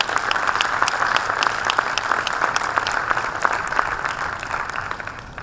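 Audience clapping at a corporate volunteering conclave, a dense sustained round of applause from a sizable crowd, fairly loud and even throughout, fading slightly at the end.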